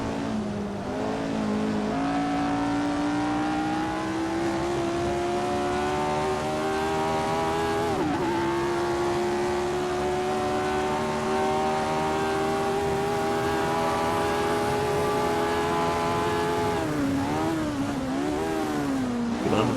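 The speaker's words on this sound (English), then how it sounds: "Most likely be a Matra F2 on Jean-Pierre." A Matra F2 race car at the 1967 Dutch Grand Prix holds a loud, sustained engine note that climbs steadily, dips briefly as a gear shifts, then wavers near the end, with no voices.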